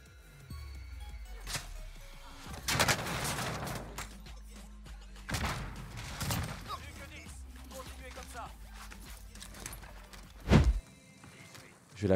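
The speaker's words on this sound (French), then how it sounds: "C'est une grenade frag qui a popé." Gunfire and explosions from an online video game sound in bursts, ending in a sudden loud, deep frag grenade blast near the end, with quieter footsteps and clatter between.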